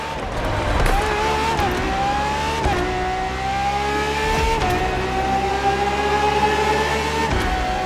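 A Ferrari FXX-K track-only racing engine in The Crew Motorfest holds a loud, steady roar with rising revs, breaking off in brief gear-shift dips about every second or two and climbing again throughout.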